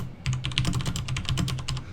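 Typing on a Corsair Strafe mechanical keyboard produces a rapid, even run of crisp key clacks, close and clear, with a brief quiet start and no voices.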